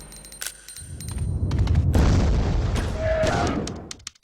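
Pistol and Uzi submachine-gun fire in Resident Evil Code Veronica X on PS2, heard as a swelling volley of booming shots and sharp pops that peaks mid-way and fades, with scattered clicks at either end.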